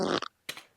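A recorded fart plays back through a Zune MP3 player: one short buzzing burst, then a softer, breathier puff after a brief gap, close and fairly loud.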